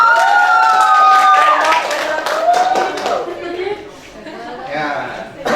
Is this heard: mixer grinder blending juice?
no